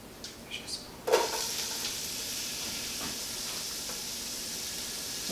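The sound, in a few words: chopped onion sizzling in a hot pan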